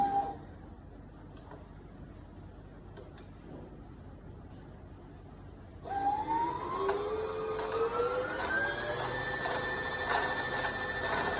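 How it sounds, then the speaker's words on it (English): Sewing machine winding thread onto its bobbin: after a quiet start, the motor kicks in with a whine that rises steadily in pitch and then holds at a steady level, heard up close. "Don't just start it with the force, with the jerk, otherwise it will start winding up at the bottom and not in the bobbin."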